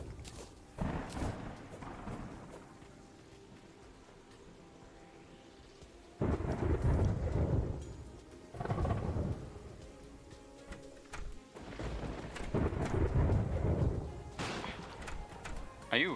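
Terraria's in-game rainstorm, with repeated heavy rolls of thunder over a constant patter of rain, loud surges coming every few seconds.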